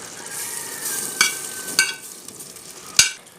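Cooked chickpeas are stirred in a frying pan while making a chickpea and bean gravy, a soft low sizzle broken by three sharp metallic spoon clinks against the pan.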